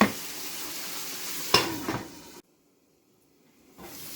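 Vegetables being stirred in a pan, scraping and sizzling for a couple of seconds with a sharp clatter midway, then a lid closing and near silence before faint sizzling returns.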